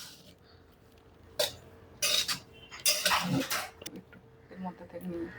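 Chilli chicken is mixed in a pan with a few bursts of scraping and clattering utensil noise between quieter moments, and people talk nearby.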